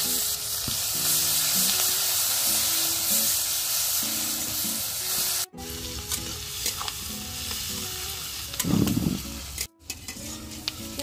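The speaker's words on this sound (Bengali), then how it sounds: "পেঁয়াজটা সামান্য ভাজা হয়ে গেছে" Sliced onions frying in oil with bay leaf, dried chilli, whole garam masala and cumin in a pan on a clay stove, sizzling steadily while a spatula stirs and scrapes in short repeated strokes, with a few brief pauses.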